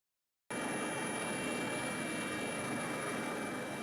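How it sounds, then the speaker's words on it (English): A helicopter flies near a large ship at the site of a South Korean ferry sinking, heard as a loud, steady, unbroken engine and rotor roar that starts abruptly after a brief silence and holds constant throughout. "헬기 소리 들려서"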